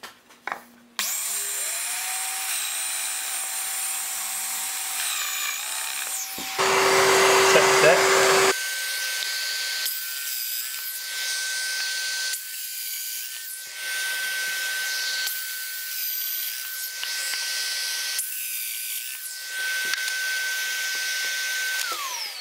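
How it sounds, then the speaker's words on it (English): Workshop vacuum extractor hoovering up dust while a bespoke modern radiator cover is made with a Festool Domino, a steady loud whine with pitch shifts as tools start and stop, switching through several bursts. "Hoovering."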